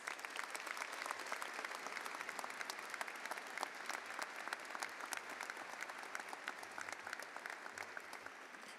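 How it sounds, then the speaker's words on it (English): Steady crowd applause fills a commencement ceremony in an arena, a faint, distant wash of many hands clapping continuously without a break. "Let's give him a round of applause."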